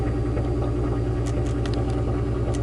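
Deep, steady exhaust rumble from a VW MK5 R32 fills the cabin with its seats removed, a loud, constant low drone at idle with faint higher ticks and rattles on top.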